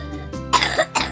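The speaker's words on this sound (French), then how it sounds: "et voici une toux grasse." A child coughs wetly and productively with mucus, two or three loose, rattling bursts close to the listener.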